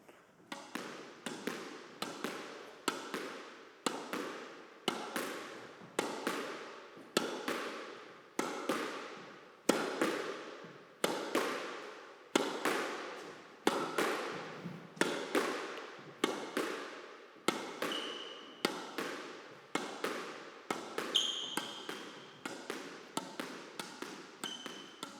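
Squash ball struck repeatedly on the volley inside a squash court during solo practice, about two dozen sharp echoing smacks in a steady rhythm, each ringing off the walls, with no talking.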